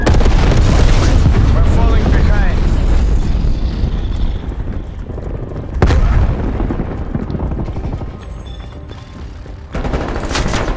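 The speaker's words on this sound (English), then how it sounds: "Enemy napalm strike incoming." Napalm strike explosions in Call of Duty: Black Ops Cold War roll in as loud, continuous rumbling booms mixed with rapid gunfire, dipping briefly and then surging again in dense, close-sounding waves.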